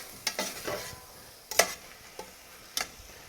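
Garlic-sautéed spinach dressed with lemon juice is stirred in a pan, a few distinct scraping strokes and clicks of the utensil over a soft sizzle, close and fairly quiet.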